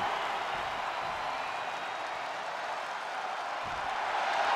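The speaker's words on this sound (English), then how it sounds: "Randy Orton feeding off this electric crowd." An arena crowd cheers during a WWE 2K23 wrestling match, a dense, continuous roar of many voices that stays at an even level for the whole stretch, slightly rising at the end.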